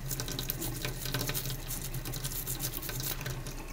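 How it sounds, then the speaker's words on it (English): A tap runs steadily into a sink while a denture and denture brush are rinsed, a close, continuous splashing water stream with no talk. "I want to make sure I rinse that thoroughly and rinse the denture brush"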